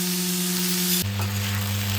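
Pumpkin curry sizzles as it fries in a pan after tempering, a steady crackling hiss with a low hum underneath, shifting once partway through, close and without talk.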